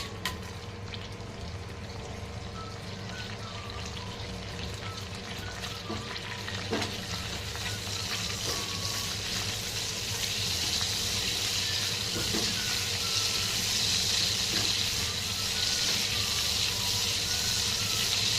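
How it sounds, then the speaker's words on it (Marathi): Cumin seeds and dry spices sizzling in hot oil, a constant dense crackling fry that grows slightly louder toward the end, with occasional light stirring clinks. "सगळ्यात पहिलं जिरं टाकून घेते"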